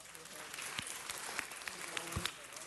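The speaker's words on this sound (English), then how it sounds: "Let's give him one more round of applause." Applause for a departing guest fills a public council meeting room, steady and fairly soft, with a few sharper claps standing out over the broad patter.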